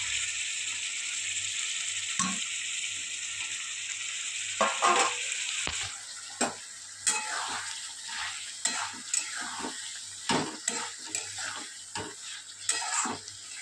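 Pointed gourd and prawns stirred and frying in spiced oil in a pan, with a steady sizzle beneath repeated scraping and stirring clatters from a utensil, no voices.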